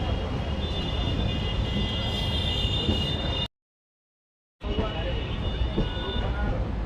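The Vibhuti Express passenger train runs on an Indian line toward Howrah Junction with a continuous rolling rumble and faint whining tones, cut by one brief dead-silent gap before the rumble resumes.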